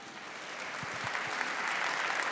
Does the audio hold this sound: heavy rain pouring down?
no